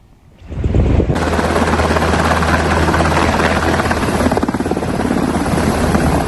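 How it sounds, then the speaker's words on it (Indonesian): A military helicopter lands on a hospital helipad close by, its rotor thumping loud and steady after a sudden rise, with a heavy engine drone throughout. "Helikopter militer Israel mendarat di landasan helikopter rumah sakit"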